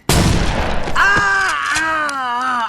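A single close, loud pump shotgun blast in the Saints Row video game hits at the start, immediately followed by a drawn-out pained groaning voice.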